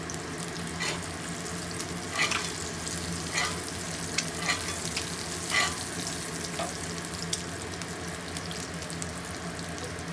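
An egg frying in a HexClad pan gives off a steady close sizzle with scattered crackles and pops throughout, and no talking over it.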